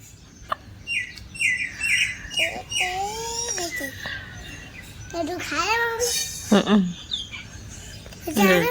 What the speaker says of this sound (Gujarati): ચકલી જો આ આ